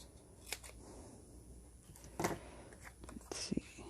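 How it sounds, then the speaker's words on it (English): A few scissor snips trim retired crafting stash for a card, with isolated crisp cuts and paper rustle spaced over a few seconds against a quiet room. "So we're just going to go snip right across, and then down here as well."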